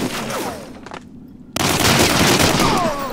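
Loud rapid gunfire rattles in Medal of Honor Allied Assault, the World War II online shooter, in dense automatic bursts that break off briefly before a heavy fusillade resumes close by.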